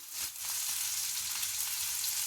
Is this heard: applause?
no